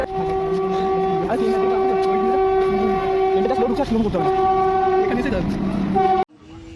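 A train pulls into a station platform near Chandannagar, West Bengal, with loud, sustained horn tones over a heavy rumble that lasts about six seconds and then cuts off abruptly.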